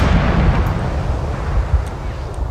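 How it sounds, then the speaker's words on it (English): Rocket artillery barrage pounding buildings in Arma 3, heard as a continuous heavy low rumble of distant blasts rolling together with no clear gaps. "the artillery is raining down still on the buildings here."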